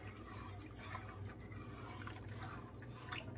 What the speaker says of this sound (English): I got me 4 cups of just plain water. I'm going to pour right into the pot right there.